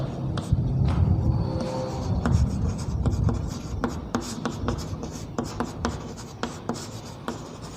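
Someone writes a definition on a board in a classroom, tapping and scratching in short strokes. It starts busy, then becomes a sparse run of distinct taps and scrapes, close and moderately quiet.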